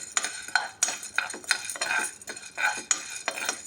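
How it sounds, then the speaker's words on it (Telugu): Sorghum grains roasting in a dry pan are stirred in quick rhythmic strokes, each scrape and rattle of grain and spoon against metal close and distinct, about a dozen bursts. "ఇలా జొన్నలన్నీ బాగా వేడెక్కిందాక కలుపుతూ ఉండాలండి."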